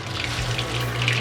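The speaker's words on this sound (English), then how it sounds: "now we have clean water going into the mash" Clean water runs steadily into the mash tun of a home brewing HERMS recirculation setup, a continuous close hiss and gurgle with no pauses.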